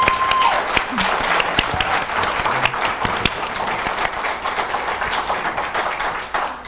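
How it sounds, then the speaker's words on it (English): A real estate event audience applauds a panel loudly and steadily, a dense wash of clapping that fades slightly toward the end. "would you please give a big round of applause for our panel here?"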